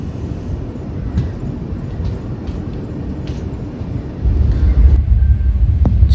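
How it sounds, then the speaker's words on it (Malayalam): A weekly superfast express train from Amritsar to Kochuveli rushes past, heard from aboard another train as a loud, steady rumble of wheels and wind that swells into a heavier roar near the end. "അമൃത്സറിൽ നിന്ന് കൊച്ചുവേളിയിലേക്ക് പോകുന്ന ആ ഒരു വീക്ക്ലി സൂപ്പർ ഫാസ്റ്റ് എക്സ്പ്രസ് ആണ്"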